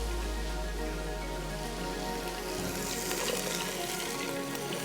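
Green chili paste sizzles in a pan while cooking for a tutti frutti dessert recipe, a steady crackling hiss that continues alone without talk and grows slightly busier toward the end.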